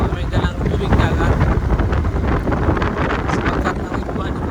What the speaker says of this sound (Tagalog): Hangin na umampas dito may dalang tubig dagat